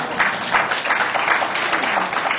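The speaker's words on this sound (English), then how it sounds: "Let's clap." A room full of people claps together in a dense, steady wash of applause that stays even and fairly loud for a couple of seconds, with no voices over it.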